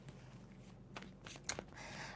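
A deck of tarot cards is shuffled with a couple of quick, soft rustling riffles, close and fairly quiet, with no talking.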